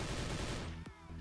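Rapid automatic fire from a Type 95 Silver rifle in the shooting game Truy Kich, a dense burst of shots that stops abruptly near the end, followed by a short tail.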